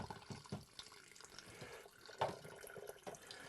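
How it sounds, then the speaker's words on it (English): Water poured into a vessel to make white silver tip tea, a soft close trickle and splash with small drips, steady and quiet throughout. "You start by putting some water in, right?"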